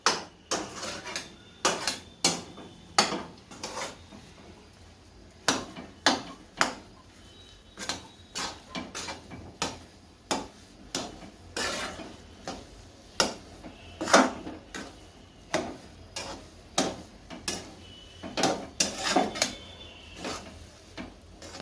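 A spoon knocks and scrapes against the pan while semolina halwa (rava shiro) is stirred, giving sharp, irregular clicks and taps spaced a second or two apart over a quiet background.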